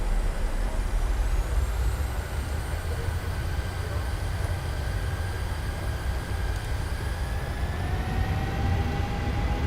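Jet engines of a PMDG 737 in Microsoft Flight Simulator spool up to takeoff power, a loud steady broadband roar with a rising whine, continuous throughout.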